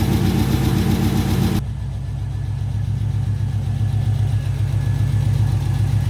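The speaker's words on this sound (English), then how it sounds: "It actually doesn't sound that loud at idle." A Pontiac GTO project car's engine idling close by, a loud, steady low rumble with an even pulsing beat that holds throughout, a higher whine cutting out early on, no talk.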